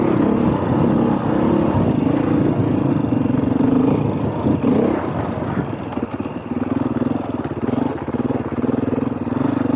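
A 2021 Beta 500 RRS dirt bike engine pulling with low-end grunt while ridden, a loud continuous throaty drone that dips and returns as the throttle changes, close to the machine.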